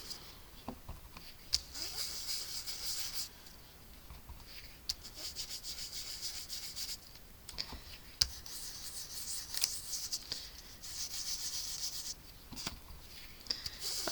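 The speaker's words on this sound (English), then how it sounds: "I'm just going to sponge a little bit on" Soft, dry dabbing and rubbing of a sponge applying crumb cake ink onto a paper card, quiet and close, in irregular light strokes with faint taps throughout.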